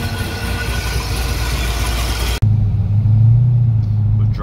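A cammed LS3 C6 Corvette rumbles loudly and steadily with a deep low engine drone, then an abrupt cut near the middle leaves a smoother, lower rumble as the car drives on.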